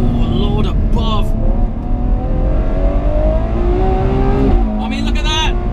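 A Ferrari 812 Superfast powers out of a corner on the Fiorano circuit, its engine note rising in a long, loud, continuous pull with shifting pitch, while someone talks over it throughout.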